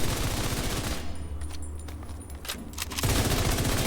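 FAMAS rifle fire in The Division 2 video game: rapid bursts of sharp shots, loud and close, with a short gap of scattered single reports in the middle before sustained automatic fire resumes.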